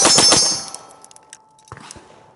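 A fast burst of pistol shots during a Bill Drill at a shooting range, several sharp cracks in quick succession that give way to a faint ringing tone and scattered metallic clanks.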